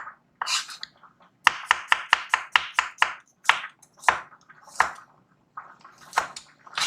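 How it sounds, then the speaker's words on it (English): A knife slices garlic cloves into thin slices on a cutting board, a run of sharp close knife taps in quick bursts, loud and alone without talk. "you want some nice thin slices of garlic there"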